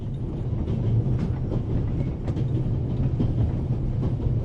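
Steady low rumble of a train carriage in motion inside a video game, a continuous near-field drone with faint rhythmic clatter and no breaks.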